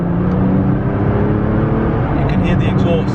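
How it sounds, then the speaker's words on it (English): Nissan GT-R R35 with a custom exhaust accelerating hard inside a tunnel, a loud continuous engine drone and exhaust roar filling the space with someone talking over it. "You can hear the exhaust."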